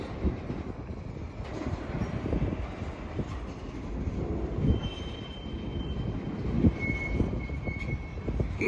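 A Norfolk Southern westbound manifest freight train rolls past at Hoover Road, a steady rumble of rail cars with occasional wheel squeal and metallic ringing, loud and continuous throughout.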